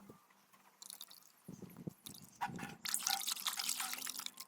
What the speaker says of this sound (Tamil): அடுத்ததாக சுத்தமான தண்ணியில் நம்ம செஞ்சு வச்சுருக்க கம்ஃபர்ட் லிக்யூடை தேவையான அளவு சேர்த்து கலக்கிடலாம்